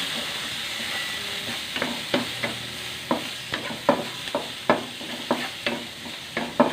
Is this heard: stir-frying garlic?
yes